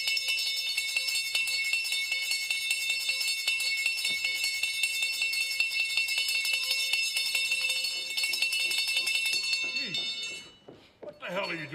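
A hand bell in a house rings to summon someone, a steady, bright jangling that continues for about ten seconds at moderate loudness before stopping as a voice speaks.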